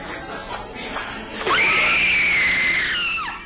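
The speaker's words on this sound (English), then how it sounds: "What you just heard was supposedly the final screams of a Disneyland employee" A loud, sustained scream recorded inside Disneyland's America Sings theater erupts sharply after a murky, noisy stretch, holding steady for about two seconds before trailing off.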